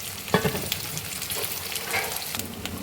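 Green chilies, onions and curry leaves frying in oil in a pan for a spinach dal, giving a steady close sizzle with a few sharp spoon scrapes and stirring clinks.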